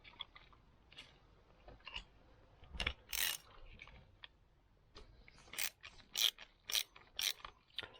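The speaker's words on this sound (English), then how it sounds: "So we're on 3/8 ratchets here." A 3/8 ratchet clicks in short bursts of sharp metallic ticks on a 2016 Golf R during a service, with quiet pauses between turns.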